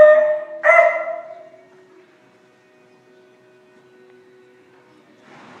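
A dog barks twice in quick succession near a barn, loud and close, then the yard falls almost silent under a faint hum before a soft rustle returns.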